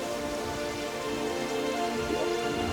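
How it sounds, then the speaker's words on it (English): Steady rain in the game Terraria Calamity, a dense, even patter that carries on without a break, with no talk. "The rain always comes back fairly quickly."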